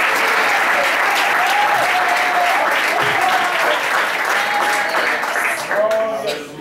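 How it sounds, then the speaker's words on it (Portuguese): Sustained applause from a church congregation fills the space at a steady, loud level, with faint voices and shouts rising through the clapping. "as palmas do Senhor Jesus"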